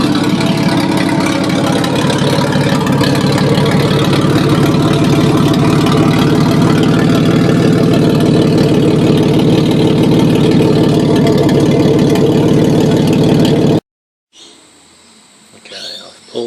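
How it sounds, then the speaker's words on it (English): Ford AU car engine idling with a new, loud exhaust: a steady, deep rumbling drone, close and strong, running unbroken for about fourteen seconds before cutting off, followed by faint shuffling. "that's with the new exhaust in, a little bit loud"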